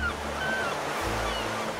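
Ocean waves wash steadily at the water's edge on the British Columbia coast, a constant near surf hiss with low wind rumble and no talking.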